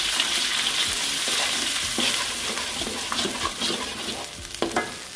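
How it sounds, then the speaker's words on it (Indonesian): Ground spice paste sizzles loudly in hot oil as it is stirred, with a spoon scraping and tapping against the pan throughout. "Minyak sudah panas, kita masukkan bumbu yang telah dihaluskan. Kemudian aduk."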